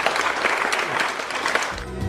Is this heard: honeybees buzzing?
no